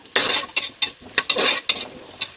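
Vegetables for vegetable biryani being sautéed in a pan, with a spatula scraping and stirring in repeated bursts over a steady sizzle, close and fairly loud, with no voices.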